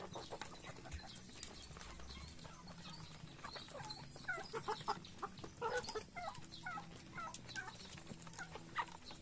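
Five-month-old upgraded native chickens cluck and chatter in a steady, busy stream, several birds calling close by at moderate volume.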